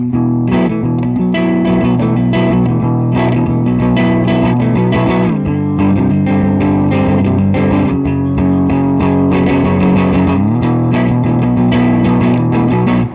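A 1959 semi-hollow electric guitar with heavy gain plays sustained, distorted chords loudly and continuously, with no pauses.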